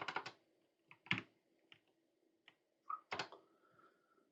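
Keys tapped on a computer keyboard in short clustered bursts with brief pauses between, quiet and close in an otherwise silent room.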